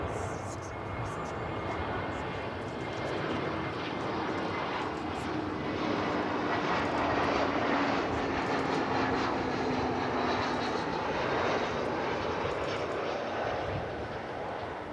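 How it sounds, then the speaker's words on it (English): Flight 505 departing Dallas-Fort Worth Airport for Denver, a steady broadband aircraft engine roar holding at an even level throughout, with a slowly falling tonal whine beneath it. "There goes flight 505 off to Denver."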